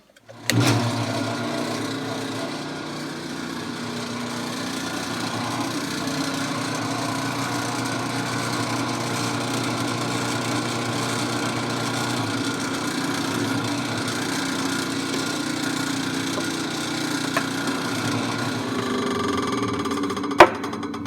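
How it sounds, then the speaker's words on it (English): A drill press bores six holes at once through a steel part for a brush guard on a Kioti DK5310se tractor, a steady motor whine with cutting noise running throughout and faint clicks near the end. "So let's drill some holes."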